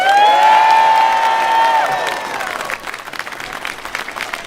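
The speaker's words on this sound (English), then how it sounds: "give a big round of applause to the Shrewsbury Brass Band" An outdoor audience at an evening carol concert in a town square in Shrewsbury applauds and cheers the Shrewsbury Brass Band, loud at first as a held note fades, then the clapping thins out and tapers off.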